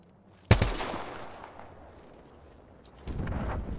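A single sharp, loud gunshot from a video game weapon rings out and decays, followed a few seconds later by a rumbling burst of further gunfire.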